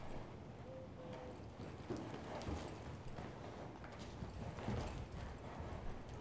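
A horse's hooves clip-clop on the ground as the rider backs her up while working a cow, a steady series of soft, close steps.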